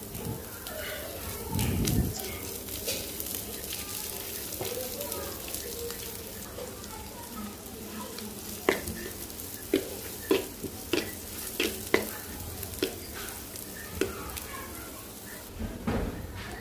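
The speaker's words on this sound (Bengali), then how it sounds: "আর এখানে রসুন আর পেঁয়াজ দিয়ে সরিষার তেল দিয়ে ভেজে নিব।" Garlic and onion fry in mustard oil in a pan with a continuous soft sizzle, punctuated by sharp clicks and scrapes of a utensil stirring against the pan.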